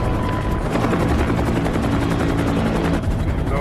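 A helicopter in an action film thunders with a steady, loud rotor chop that fills the scene continuously with no speech.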